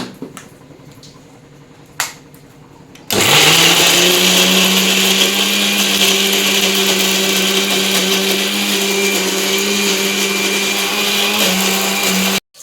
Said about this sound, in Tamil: நல்ல மைய அரைச்சி எடுத்தாச்சு